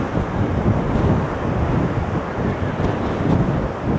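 Strong gusting wind roars across the Blackpool promenade on a cold day, a continuous broadband buffeting that batters the microphone with no let-up.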